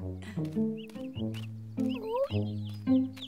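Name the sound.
chicks clucking, cartoon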